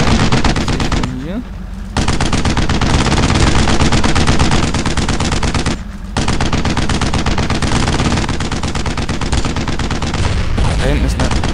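Dense machine gun and rifle fire rattles almost without a pause in the World War II shooter Brothers in Arms: Road to Hill 30, loud and close, with two short gaps in the bursts.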